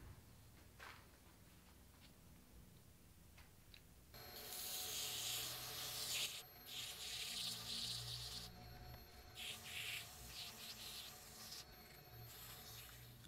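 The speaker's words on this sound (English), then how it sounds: "Now I'm going to go and do some wet sanding from here on in" Wet sanding of a clear resin dragon egg with fine sandpaper on a lathe, a steady broadband rasping hiss that swells in loud bursts over a quieter background, with no talking.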